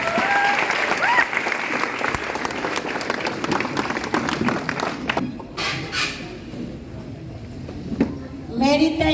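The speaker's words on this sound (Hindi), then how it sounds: "बस जोरदार तालियां होनी चाहिए मैम" Loud applause from an audience at a municipal event, welcoming the municipal corporation chairperson onto the stage, with dense clapping throughout that thins out toward the end, and voices and crowd noise mixed in.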